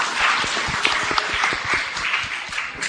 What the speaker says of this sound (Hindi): तालियां डॉक्टर सलीम मोहिउद्दीन के लिए